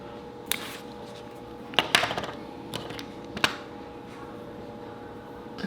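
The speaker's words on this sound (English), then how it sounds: "Let's cut some fabric." Scissors cut fabric for a swimsuit in a few separate crisp snips, close by and fairly quiet over a low room hum, with no one talking.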